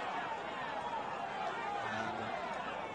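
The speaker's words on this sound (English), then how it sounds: "Crowd a little restive" Restless crowd at a 2019–2020 Match Day 3 football game between Arnett and UWI, a steady broad murmur and babble of many voices continuing throughout without breaks.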